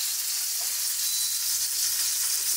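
Mushrooms sizzle steadily in a hot pan, a continuous bright frying hiss close by with no voices.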